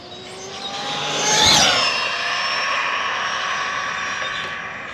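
An Arrma Limitless RC car running at full throttle on 12S power makes a loud, rising high-pitched motor whine that peaks as it passes close by, then holds a steady buzzing drone as it speeds away along a road.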